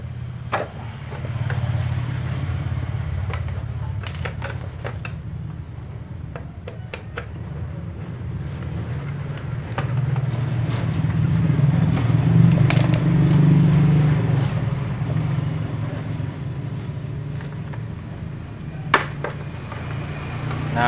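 A Honda Scoopy scooter idles close by with its front body cover removed, a steady low engine hum running throughout with scattered light ticking and rattling clicks from loose panels.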